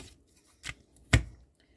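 Scissors cut paper for a postal-themed folio in a few short snips, with a quiet crisp cut followed by a louder, sharper one and a faint tail at the end, close and alone.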